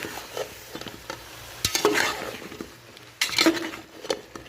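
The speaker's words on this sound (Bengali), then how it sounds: "এখন আমি এখানে লাউটাকে 5 থেকে 10 মিনিট কষিয়ে নিব।" Chopped bottle gourd sautéed and stirred in a pan with a utensil, soft sizzling under intermittent scraping and clinking strokes, two louder bursts of stirring standing out against the quiet frying.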